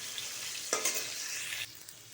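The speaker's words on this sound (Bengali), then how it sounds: "দেখো আলু আর গাজর আর কুমড়োটাকে ভালো করে ভেজে নেব।" Potato, carrot and pumpkin pieces frying in hot oil, a steady close sizzle with a burst of louder crackling and stirring midway before it settles back to a softer hiss.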